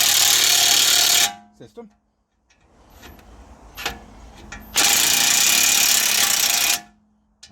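Wheel nuts on an Audi A7 front hub are run down by a loud power tool in two long bursts, pushing a plate against the wheel flange during a front wheel bearing replacement, with brief clanks and a voice speaking between the bursts.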